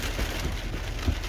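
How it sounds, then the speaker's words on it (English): Steady rain downpour during a wet morning, a continuous dense hiss of falling drops with a few soft low thumps, moderately loud and alone without speech. "it's just been a steady downpour"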